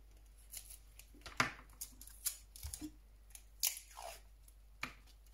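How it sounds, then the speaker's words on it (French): Scissors snipping through tape in a quiet room, a series of short, sharp cuts and crisp rustles spaced irregularly, close and fairly faint with no talk. "Bon, je vais prendre les ciseaux."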